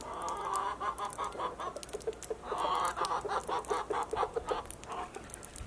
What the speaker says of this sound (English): I don't know if you can hear my chickens.